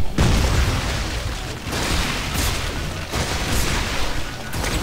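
Heavy gunfire in the sci-fi horror game Dead Space 3, a sustained roar of booming shots and blasts with a few sharp breaks, loud and close with no talk.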